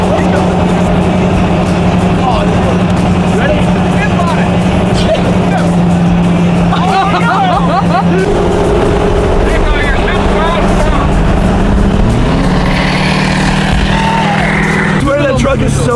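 A loud pickup truck carrying a dirt bike drives down the road with its engine droning and shifting pitch continuously, while people talk inside the cab over the noise.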